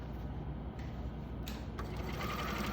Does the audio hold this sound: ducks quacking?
no